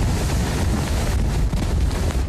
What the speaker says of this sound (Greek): Δυνατοί άνεμοι σαρώνουν τα πάντα στο πέρασμά τους.